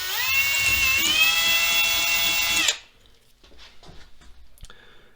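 A power drill whines loudly at high speed for nearly three seconds while cleaning out holes in a Showa fork part, then stops abruptly, leaving faint scrapes and small handling noises.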